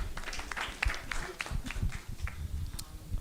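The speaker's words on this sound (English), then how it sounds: "A round of applause, please" Scattered, faint clapping rises from an audience at an executive round-table dialogue, the claps irregular and sparse, sounding somewhat distant.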